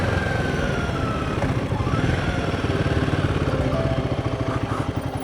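Royal Enfield Himalayan 450 motorcycle engine runs nearby with a steady, rhythmic thumping pulse and some mechanical clatter, fairly loud with no talk.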